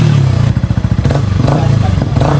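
Close and loud, a Yamaha R15M motorcycle fitted with a Yoshimura Alpha muffler revs in quick pulsing bursts with a raspy exhaust note.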